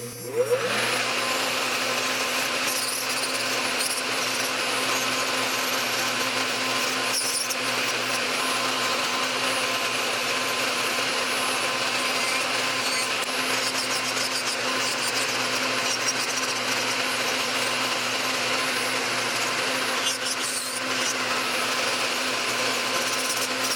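A YaFex 35000 RPM electric nail drill fitted with a coarse bit grinds hard gel polish off a nail. It gives a continuous, even high-pitched whir that stays close and steady throughout, with no talking.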